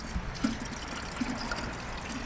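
Coolant trickles and dribbles steadily at a low level while being poured into a BMW E36, with a few soft splashes and no voices.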